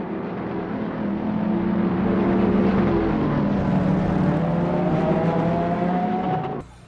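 A battery-powered toy Bugatti sports car runs with a continuous whirring electric motor drone that rises and shifts slightly in pitch, loud and close, then cuts off abruptly at the end.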